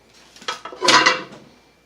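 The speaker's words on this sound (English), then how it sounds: "And then I have cast iron pans." Heavy cast iron pans set down one after another as weights on a flat surface, giving a few close, dull clattering knocks with a louder metallic clunk near the middle, no talk.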